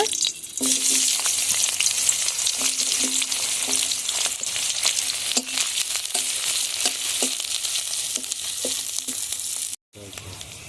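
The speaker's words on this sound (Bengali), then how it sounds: "পেঁয়াজ কুচিগুলো দিয়ে ভেজে নেব" Chopped onions fry in hot oil for a Bengali taki fish bhorta, a loud steady sizzle with occasional stirring scrapes throughout, cutting off briefly near the end before resuming.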